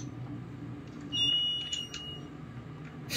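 Chime from Monitor fixtures on an unidentified hydraulic elevator downtown: a few thin, high electronic tones ring for about a second over steady low machinery hum, moderately near.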